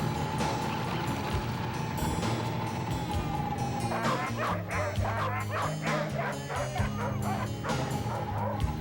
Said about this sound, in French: le matin, les chiens sont fougueux et on doit les freiner avec les motoneiges